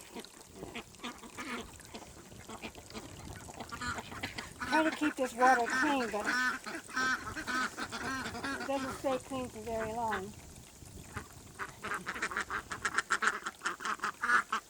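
Grown ducklings quack in a loud, overlapping flurry, nasal calls rising and falling while someone talks nearby; water splashes faintly between the bursts.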